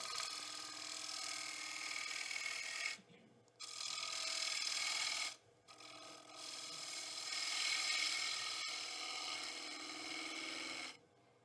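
A bevel-edged turning tool cutting a wooden bowl on a lathe, three long continuous scraping cuts broken by brief pauses, close and steady, with a voice faintly under the cutting.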